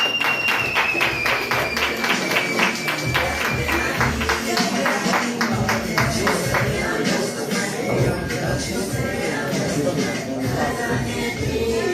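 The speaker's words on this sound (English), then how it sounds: "Give a round of applause." Audience at a live comedy show applauding, dense clapping and crowd shuffle that holds steady throughout, with some talk mixed into the noise.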